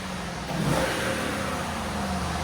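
A 2012 Lexus LS 460 with its 4.6-litre V8 and stock exhaust revs quietly, a soft steady engine drone that rises slightly and then holds, heard faintly and with no talking.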